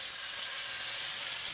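Fish frying in hot oil, a dense, loud, continuous sizzle and hiss heard close up with no voices over it.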